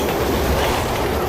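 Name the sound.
train arriving, from Resident Evil video game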